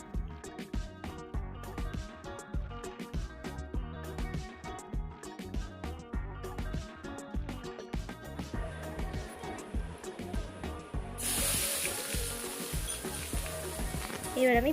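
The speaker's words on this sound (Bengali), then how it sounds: "এবার কড়াইতে তেল গরম করে গোটা মশলা ফোড়ন দেব।" Whole peppercorns, cloves, cardamom and cinnamon hit hot oil in a wok, with a bright steady sizzle rising in the last few seconds over background music that plays throughout.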